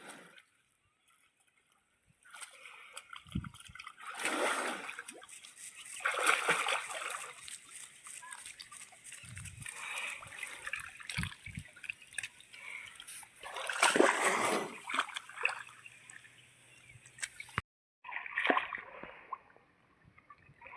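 A buffalo calf dips its mouth into water while out grazing with the herd, sending up irregular splashes and sloshing in bursts, close by with gaps of quiet and a short pause near the end.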